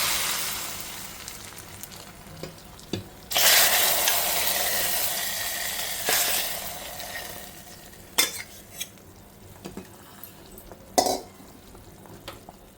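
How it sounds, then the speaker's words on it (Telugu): Tempering spices hit hot oil for a South Indian rasam, giving a bright hiss that swells and then settles into a steady sizzle, broken by a few sharp clinks of a spoon against the pan. "ఇప్పుడు తాలింపు వేసేస్తున్నా"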